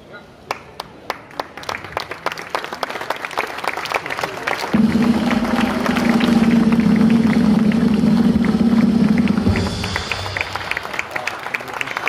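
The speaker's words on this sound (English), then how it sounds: "A round of applause." A crowd bursts into sustained applause at the Renault Clio 5 production launch, first scattered single claps, then a loud, dense swell of clapping that fades back to a few claps.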